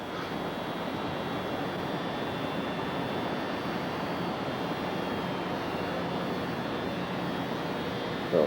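A steady, loud engine roar with a broad rushing hiss runs unbroken throughout, like an aircraft or jet engine at a constant level near Kennedy Space Center, Cape Canaveral.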